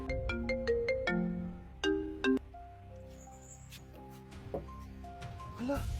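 A cellphone plays a melodic ringtone at moderate volume, with a quick run of bright tones at the start and sparser notes afterward, while people talk now and then over it.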